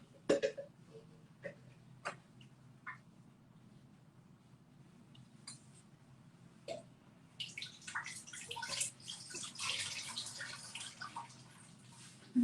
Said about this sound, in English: Just give me a couple of seconds to rinse the flowers.